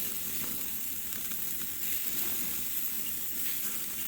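Burgers and a club-size beef eye round steak sizzle over a charcoal grill, a dense, steady hiss with soft crackles holding at an even level throughout.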